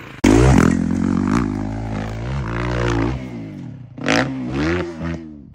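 A four-stroke motorcycle engine roars in suddenly and loudly up close during a jump, its pitch rising and sagging. A second short rev bursts out near the end.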